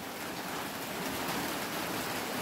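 Rain pours steadily at UPT Sepunggur, a dense, even hiss of falling water that stays loud and unbroken throughout, with no voices.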